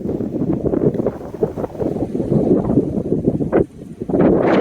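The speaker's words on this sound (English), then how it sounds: "It's windy out here today. Sorry about the wind." Wind buffets the microphone outdoors at a flooded gold-panning spot in loud, rumbling gusts, a constant low roar with brief dips and surges.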